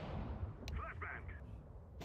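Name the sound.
flashbang grenade going off in Counter-Strike 2 video game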